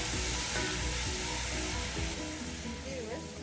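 Spices and a bay leaf sizzle loudly in hot oil, a mutton yakhni pulao base, as a spoon stirs through them, with a continuous frying hiss and occasional scraping.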